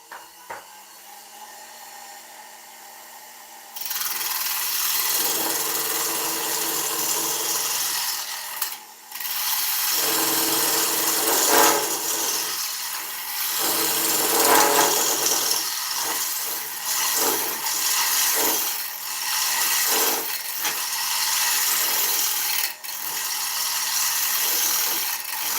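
Oak bowl spinning on a wood lathe while a tool cuts it, a steady loud broadband scraping and hissing that starts after a few seconds of quiet hum and runs on with brief dips.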